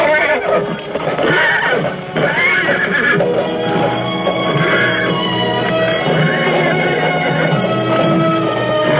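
A horse neighs loudly and repeatedly in long whinnies, close by, with some background commotion and no talking, in a 1958 Western TV drama.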